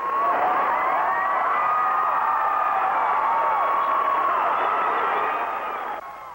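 A theater audience at the Amundsen Theater roars and cheers as the curtain comes down for the last time, a loud, sustained wall of crowd noise with whoops and shouts that fades slightly at the end.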